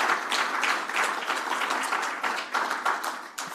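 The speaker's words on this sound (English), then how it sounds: "A round of applause for our experts." Applause from a conference audience saluting a panel of experts: a moderate, continuous rattle of clapping hands with slight swells, heard at a fair distance in a large room.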